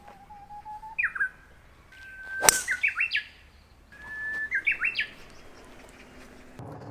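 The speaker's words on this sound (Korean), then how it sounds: "새들이 지저귀는 소리" Birds chirp on a golf course in a few distinct bursts of bright, rising and falling whistled notes, with short pauses between phrases and a quiet outdoor background.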